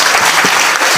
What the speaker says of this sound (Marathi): एकदा या मंडळींसाठी टाळ्या वाजवा जोरदार.